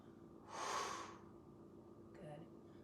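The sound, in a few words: forceful exhale breath in yoga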